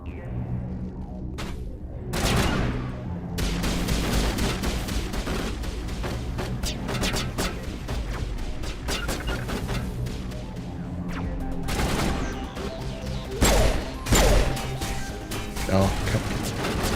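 Sustained gunfire in the video game Mass Effect, dense bursts of rapid shots and sharp impacts continuing throughout, with louder blasts near the end and someone talking over the battle.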